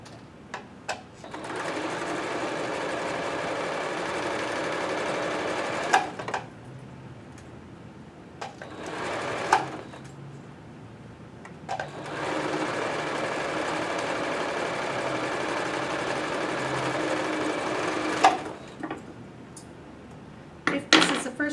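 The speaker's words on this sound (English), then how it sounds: "Sew once along the chin area and once along the nose area" A sewing machine stitches a fabric face mask along the chin and nose seams, running in two long steady bursts with short pauses and a few clicks between them.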